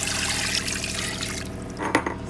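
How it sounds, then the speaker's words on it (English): Water pours steadily into a cooking pot holding goat meat, a continuous splashing rush that thins out toward the end with a few drips and a small clank. "and then I'm going to put in some water."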